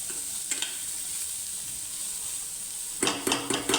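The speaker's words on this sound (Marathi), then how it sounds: "फोडणी करते वेळी एकदा फोडणी झाली की गॅस बारीक करून घ्यायचा" A spice tempering sizzles in a pan while village-style bitter gourd is prepared, a soft steady fry that bursts into louder crackling pops near the end.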